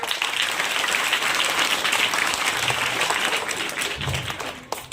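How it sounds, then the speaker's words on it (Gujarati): An audience at a school magic show applauds for Jayesh: loud, dense clapping that carries steadily for several seconds, then thins and tapers off toward the end. "જયેશ માટે જોરદાર તાળીઓ."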